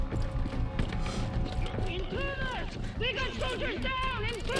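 Horse hooves clip-clop in the open-world shooter Far Cry 6, a steady rhythmic trot heard under continuous game audio and overlapping talk from players.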